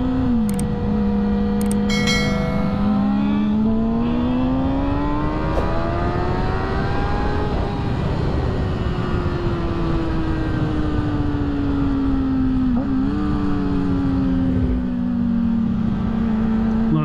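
A motorcycle engine revs during wheelies, a loud close drone that climbs steadily in pitch, peaks, then eases back down and settles into a sustained hum.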